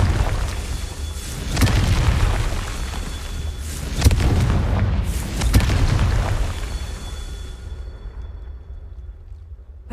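Confringo spell blasts in the Hogwarts Legacy video game, several heavy booming explosions a second or two apart, each followed by crackling rumble that fades into near silence at the end.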